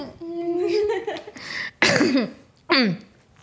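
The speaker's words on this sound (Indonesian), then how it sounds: "Aduh batuk nih." Two sharp, harsh coughs burst out close to the microphone after a short stretch of talking, each followed by a brief fading rasp.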